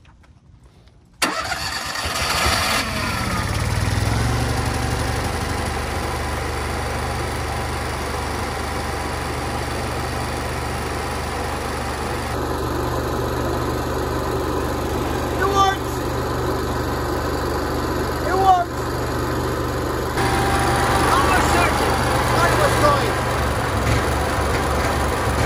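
An Onan Cummins 5500/7000 generator with a surge fault cranks and catches after a brief quiet start, then runs at a steady close idle drone with slight shifts in load and an occasional clunk.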